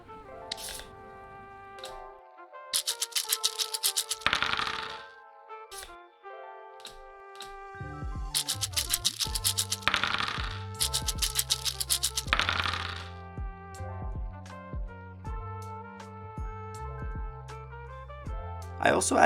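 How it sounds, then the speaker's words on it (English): Dice rattling and cards shuffling and snapping form the sound effects of a dice-and-card indie economy game. Bursts of clattering alternate with short bright chimes and tones over quiet gaps, and a synth note swells at the end. "The first thing I did was edit together some dice sounds along with some card sounds"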